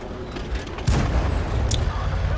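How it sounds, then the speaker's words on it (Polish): A tank gun firing in a tank battle video game: one sudden, heavy, close boom that rolls on into a dense rumbling tail, with a short metallic ping soon after. "Jeden strzał, niestety ding."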